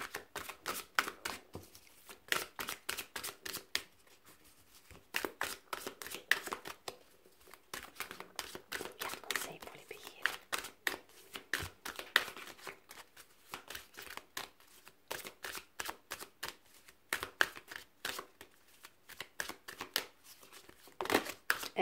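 Oracle cards are shuffled for a reading in a rapid run of crisp, close riffling and slapping bursts that come in repeated rhythmic clusters, with brief pauses between them and no talking.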